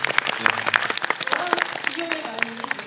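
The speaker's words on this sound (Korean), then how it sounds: "박수 한번 부탁드립니다" Audience applause at a post-screening talk for the film The Substance, a scattered patter of clapping mixed with voices and chatter throughout.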